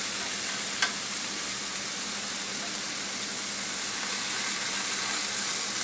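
Fish sizzles steadily on a grill pan, a dense continuous frying hiss with one brief clink of a spatula early on as pieces are gently flipped.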